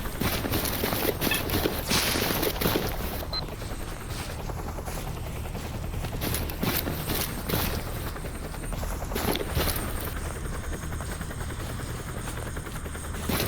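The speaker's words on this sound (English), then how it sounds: "I hear multiple footsteps." Several sets of footsteps patter steadily in the game Stalker Anomaly, a brisk, uneven tread mixed with a constant rotor-like drone and occasional sharp cracks in the background.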